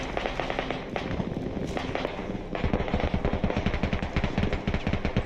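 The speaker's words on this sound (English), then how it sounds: "Throwing grenades." Explosive blasts and gunfire in a video game crackle continuously, with the first half a dense wash of bursts and the second half a faster, rapid-fire rattle of sharp, evenly spaced pops.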